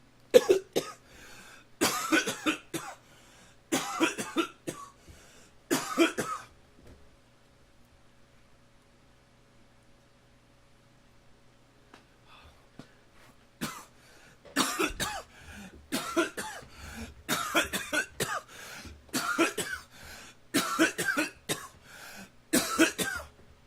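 Harsh, repeated coughing comes in bursts, a cluster of fits, then a quiet stretch, followed by a longer run of loud coughs close to the listener.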